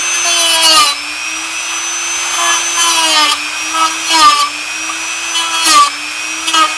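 A high-pitched dentist-like drill whine runs steadily while drilling a 1400:1 scale U.S.S. Enterprise model, dipping briefly several times as it bites into material, loud and close.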